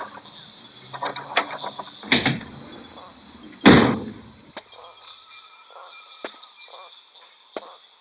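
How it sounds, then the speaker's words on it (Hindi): A door creaks and thumps open in a horror scene, with a strong scraping burst followed by quieter clicks and knocks in a hushed room. "मैं चल के दरवाजा खोलता हूँ।"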